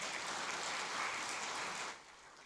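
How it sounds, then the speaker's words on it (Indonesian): Audience applause for partners at an Aceh provincial meeting on a free nutritious meal program, a steady broad clatter of many hands that holds for about two seconds and then quickly fades away. "Tepuk tangan untuk mitra."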